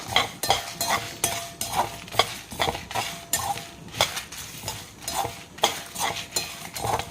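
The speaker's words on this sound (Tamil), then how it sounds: "இதை வந்து ட்ரை ரோஸ்ட் பண்ணிக்கணும் நல்லா வாசனை வர அளவுக்கு நல்லா வறுத்துக்கணும்" Whole spices for vatha kuzhambu powder being dry roasted in a pan without oil, with a spoon scraping and stirring in a steady run of clinks and scrapes, fairly close and with no talk.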